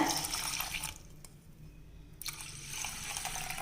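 Water gushes and splashes into a pressure cooker of rice nearby, pauses briefly, then resumes pouring with a bright, hissing rush.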